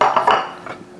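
A knife cutting bacon on a kitchen board, a few quick, close clattering taps of blade and board within a second, fading to quiet.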